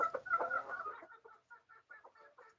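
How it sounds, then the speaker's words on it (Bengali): Sonali and desi chickens on a poultry farm cluck softly nearby, first in a dense murmuring chorus, then in quieter scattered clucks with gaps between. "এগুলো আমার খামারের সোনালী মুরগি, দেশি মুরগি রয়েছে এবং বাইরেও কিছু মুরগি রয়েছে যেগুলো খাবার দিলাম"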